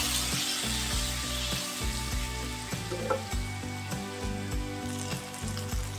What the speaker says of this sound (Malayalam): ഇനി ഇതിലേക്ക് പച്ചമുളകും തക്കാളിയും ചേർത്ത് വഴറ്റാം.